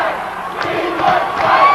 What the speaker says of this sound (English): crowd begins chanting at Tully Blanchard, "We want Spike."